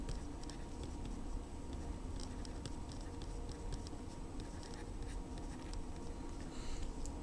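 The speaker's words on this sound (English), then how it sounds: "I'll write that down up here" Pen scratching by hand while jotting down calculated soil figures, a steady close scratchy patter of strokes running for several seconds over low background hum, no talking.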